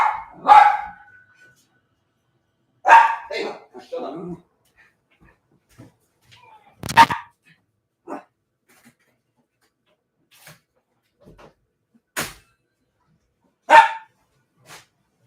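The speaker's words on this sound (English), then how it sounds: "Sorry about the dog." A dog barks in sharp, scattered bursts at a package delivery at the front door, with short loud barks spaced across the stretch and quieter whimpers and snorts between them, heard indoors with no talk.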